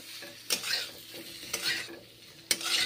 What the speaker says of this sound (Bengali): এখন বাটার দিয়ে ভেজে নিচ্ছি চিকেনগুলোকে